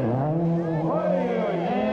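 Rally car on the final downhill braking of a snowy Swedish WRC special stage, a steady engine drone with shifting pitch and whining tones, heard under a commentator's voice.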